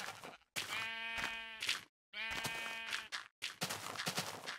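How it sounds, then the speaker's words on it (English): Several nasal Minecraft Pocket Edition sheep bleats come in short bursts with brief silent gaps between them, clear and close. "I should be able to breed sheep"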